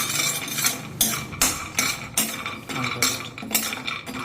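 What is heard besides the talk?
almonds being stirred in ghee in a pan with a big spoon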